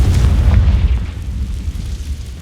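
A Confringo blasting spell in Hogwarts Legacy goes off as a loud, close, deep booming explosion with a rumbling tail that fades over a couple of seconds.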